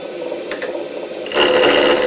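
A woodturning gouge cuts wood on a lathe spinning at higher speed: a faint hiss of cutting and machine hum, then a sudden louder, brighter scraping rasp as the tool bites in.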